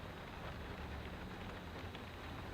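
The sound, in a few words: rain, sleet and snow falling on a van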